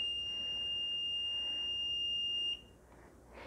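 A DC-300P-S stationary football play clock sounds its end-of-period beep at the close of a 60-second countdown: one long, steady, piercing electronic tone holds for about two and a half seconds, then stops abruptly.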